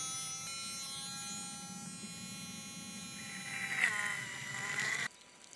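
A 12-volt brushed solar water pump, not self-priming, runs with a steady electric buzzing whine whose pitch shifts partway through before cutting off abruptly near the end.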